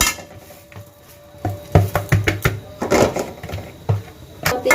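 Sesame seeds roasting in a kadai over a low flame, a utensil scraping and tapping the pan in irregular bursts of clatter, close by, with faint background hum.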